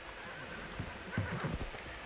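Horses in a survival video game clip-clop and snort, with a low neigh under steady ambient game sound, fairly close and moderately loud, with no talking.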